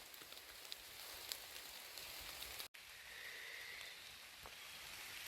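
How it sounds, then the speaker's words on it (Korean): Steady rain falls on a mountain hiking trail during a summer downpour, a continuous soft hiss of drops on leaves and ground that fills the whole stretch with no voices. "비가 그치질 않고 오네요."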